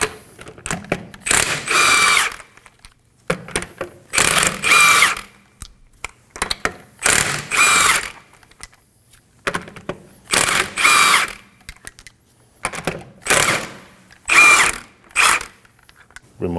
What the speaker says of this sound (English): Using a 21mm socket, we're going to remove the lug nuts.